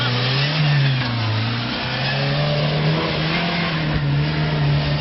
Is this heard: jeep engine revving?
yes